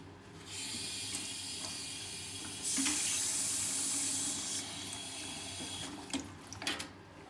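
Hot and cold water runs steadily from a non-touch sink tap at a hand washing station, a continuous close hiss that surges louder midway, with a few small clunks near the end.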